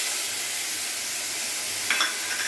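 Ginger, garlic, chili and onion paste frying in oil in a home kitchen, a steady soft sizzle and hiss throughout with a brief brighter spit near the end, no talking.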